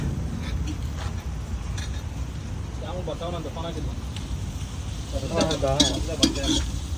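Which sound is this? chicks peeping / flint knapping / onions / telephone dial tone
onions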